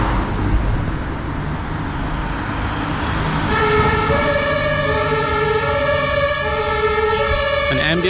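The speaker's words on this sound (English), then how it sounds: "An ambulance just went by me." An ambulance siren wails with a rising and falling pitch over steady street and traffic noise in Berlin, starting partway through and growing louder as it nears.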